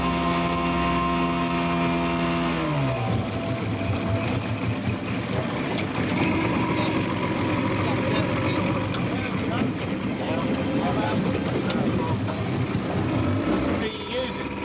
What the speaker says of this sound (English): we were using a jet pump boat